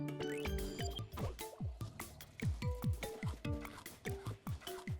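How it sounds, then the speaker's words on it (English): In the Everything is Crab video game, a crab walks across water, making a quick run of wet, squelchy splash steps with falling bubbly pitches, close and fairly soft, with no talk. "We're walking on water."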